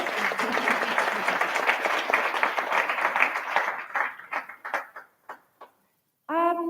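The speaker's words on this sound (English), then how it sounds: "Let's applaud you and all the online viewers." Audience applause at an inspirational talk, dense and sustained at first, then thinning into scattered separate claps before dying out, with a voice starting up briefly at the end.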